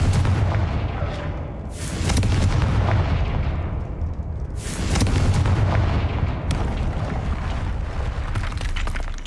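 Confringo spell explosions in the Hogwarts Legacy video game, several loud booming blasts in a row with rumbling tails that overlap, dense and close.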